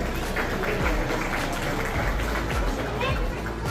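A crowd at an event applauds loudly and steadily, with dense clapping and murmuring voices throughout.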